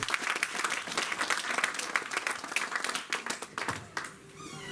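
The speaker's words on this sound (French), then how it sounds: "Oh, donnons quand même une acclamation, Seigneur." A congregation applauds during a church sermon, a dense burst of clapping that is fairly quiet and distant and tapers off at the end.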